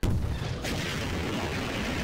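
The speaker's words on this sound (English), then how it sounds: "It's a really small explosion." A small explosion in Garry's Mod gives a short booming burst at the start, then a dense, steady rumbling roar that carries on until the end.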